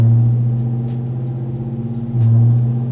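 A Texas Speed Stage 4 Chevrolet Silverado 5.3 truck runs on a dyno in second gear, its engine a loud, steady, deep drone throughout. The pitch dips slightly mid-run, then rises again near the end.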